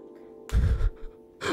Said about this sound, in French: C'est une meuf qui est en train de jouer de l'harpe et genre d'un coup t'as une corde qui pète